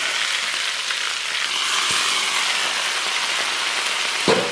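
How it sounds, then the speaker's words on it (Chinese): Hot oil is poured over coarse chili flakes, minced garlic and white sesame, giving a dense, continuous rain-like sizzle that holds steady at close range, with a couple of sharp knocks. "然后咱们把这个烧热的油给它浇到上边"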